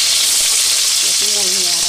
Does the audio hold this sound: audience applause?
no